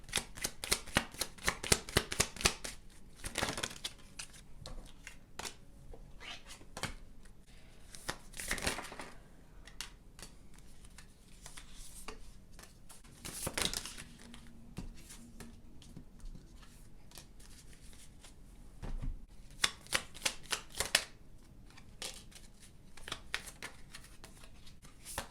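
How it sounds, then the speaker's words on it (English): Oracle cards being shuffled by hand, a close, crisp riffling in repeated bursts with brief pauses between, some bursts louder and faster than others, no talking. "I'm going to go ahead and shuffle all the oracle cards right now."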